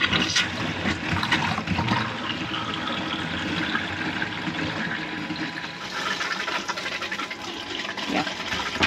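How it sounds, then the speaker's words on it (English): Water runs steadily from the bathroom tap of a motorhome as it comes out of winter storage, with a constant rushing gush and a few gurgles. "So now we'll try the bathroom tap."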